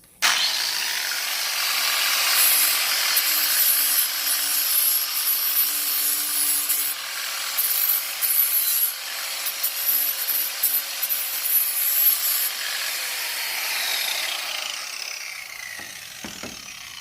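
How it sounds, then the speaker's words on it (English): A power tool bevels the edges of recycled material, giving a steady, loud grinding and rubbing roar with a faint high whine. It runs continuously for most of the stretch, then winds down into a few scraping knocks. "So what I'm doing here, like I said, is just beveling out these edges, and this is how we do it."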